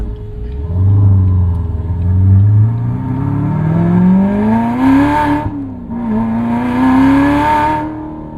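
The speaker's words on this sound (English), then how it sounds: "Love the rev match on the car." An 850 hp Katech-built C7 Corvette Z06 engine drones steadily, then climbs in pitch with two quick throttle blips as it rev-matches a downshift, loud and close.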